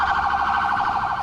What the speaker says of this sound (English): With lights flashing and sirens sounding, we fight our way through the congested streets of Bangkok